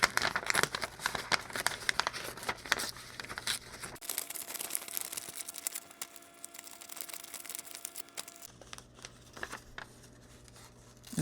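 Garden cover material is ripped by hand around a started cut, giving a stretch of crinkling, tearing rustle that shifts in texture and stays fairly close.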